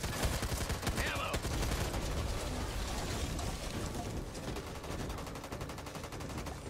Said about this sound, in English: This gun shakes when you fire it